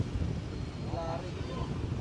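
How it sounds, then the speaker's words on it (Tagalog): Strong, gusting wind in Claveria, Cagayan buffets the microphone with a constant low rumbling roar, loud and steady throughout. "Lakas ng hangin, no?"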